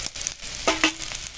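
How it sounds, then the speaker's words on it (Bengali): A steady frying sizzle with a couple of brief, louder bursts as pre-fried ridge gourd is tipped into a hot pan of onions; no voices. "এবার এই ভেজে রাখা চিচিঙে দিয়ে দিলাম।"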